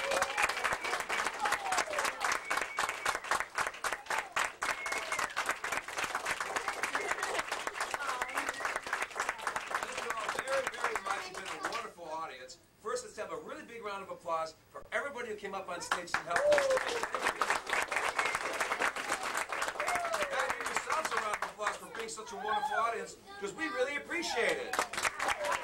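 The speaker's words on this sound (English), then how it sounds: "Let's have a big round of applause for Carleton the Mime." An audience at a library holiday show applauds a mime performer with dense, sustained clapping and some cheering. The applause thins briefly midway while a voice speaks, then swells again.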